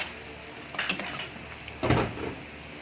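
Plates and utensils clink twice, a short cluster of chinks near the start and another about a second later, as beef kaldereta is served onto plates; close and fairly light, with no talking.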